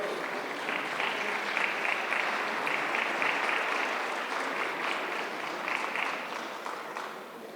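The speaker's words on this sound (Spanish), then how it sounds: "¿Por qué no le da un fuerte aplauso al Señor?" A church congregation applauds together in a long, even burst of clapping that holds steady with no voices, then thins slightly near the end.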